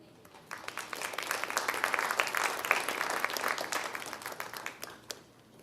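An audience at a Phi Theta Kappa induction ceremony at Harford Community College breaks into moderate applause that swells, holds for several seconds and then tapers off.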